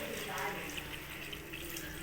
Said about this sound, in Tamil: இதில் பார்த்திங்கன்னா கொஞ்சம் தண்ணி சேர்க்கணும்.